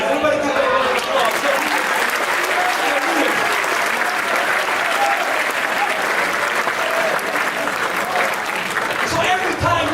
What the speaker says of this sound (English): Everybody give it a round of applause.